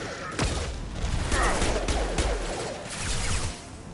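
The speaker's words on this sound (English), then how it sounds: "Firing a high-impact shot." Mass Effect weapon fire: a few sharp, heavy high-impact shots crack out over a rushing, noisy battle bed, each hit punching through the din.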